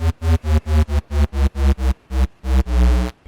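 Bass one-shot number 25 from a UK speed garage sample pack, triggered in a sampler as a loud, bright, rhythmic run of about a dozen stabs with a long final note.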